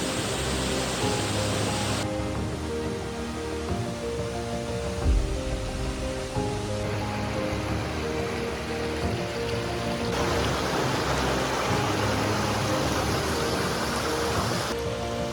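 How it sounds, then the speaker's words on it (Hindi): Light rain drizzles near a waterfall, a steady broadband hiss of drops and rushing water filling the scene at an even level, with a brief low thump partway through. "वाटरफॉल के पास पहुंचते ही हल्की हल्की सी बारिश की बूंदाबांदी शुरू हो गई थी"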